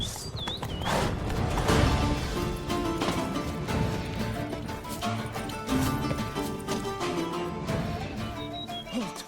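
A horse in The Witcher 3: Wild Hunt – Blood and Wine sets off at a command, hooves clip-clopping rhythmically and fairly close over game music and ambient bird chirps.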